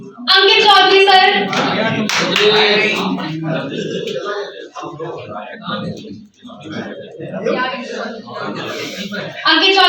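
Audience clapping at a journalists' award ceremony runs steadily beneath someone talking into a public address system, with some chuckling mixed in.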